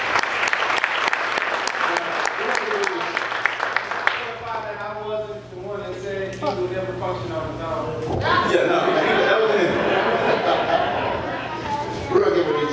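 Audience applause at a talk about a college graduate's journey, a dense burst of clapping in the first four seconds that fades under talking voices and crowd chatter.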